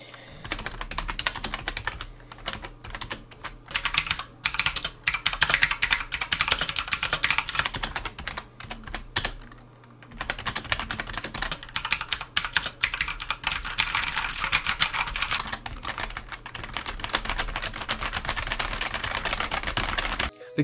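Continuous typing on the keyboard of an MSI Interceptor DS4200 and on a full mechanical keyboard, a dense run of loud clicking keystrokes with a short pause near the middle, heard alone.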